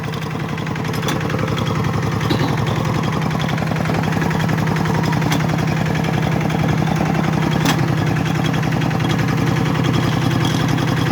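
A walk-behind tractor's small engine chugs steadily and loudly throughout, a rapid low putter with no voices.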